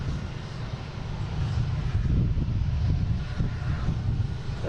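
A Bombardier Challenger 300 business jet lands at Boston Logan, a broad, steady engine roar at a distance, swelling slightly midway and blended with gusty wind noise.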